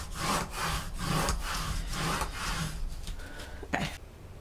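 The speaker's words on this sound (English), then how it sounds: "Now I'll burnish it." Paper on a pocket-page mini scrapbook album is burnished with a hand tool, giving repeated rhythmic scraping strokes, close and steady, roughly eight passes before a short clack near the end.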